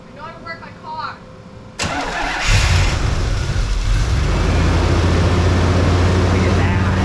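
An old carburetted car engine cranks and catches after the gas pedal is pumped, a sudden loud start that settles into a steady, close rumbling idle, with people talking briefly before it.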